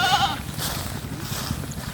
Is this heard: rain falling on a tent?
no